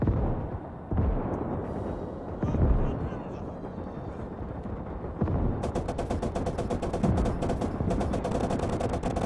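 Machine gun fire in the World War II game Call to Arms: Gates of Hell, with dense rapid bursts of rattling shots running steadily through the second half amid ongoing battle noise and rumbling explosions.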